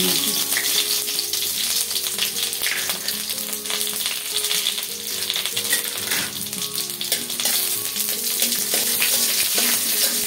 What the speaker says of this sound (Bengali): এখানে আমি তেজপাতা, একটা শুকনো মরিচ আর ময়ুর দিয়েছি